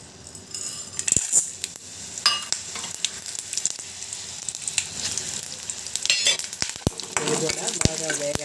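Dried red chillies, cumin and coriander seeds fry over a low flame in a pan, giving a steady soft sizzle with occasional scraping and stirring clinks from a spoon, close and fairly quiet.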